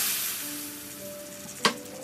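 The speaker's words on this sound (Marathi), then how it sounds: "आता यात 2 लाल मिरच्या घालून त्यासुद्धा अर्धा मिनिट फ्राय करून घेऊया आणि ही खमंग चुरचुरीत फोडणी भाजीवर ओतूया" Hot tempering of garlic and red chillies hits spinach with a short, sharp sizzle near the end, following a steady soft hiss of frying.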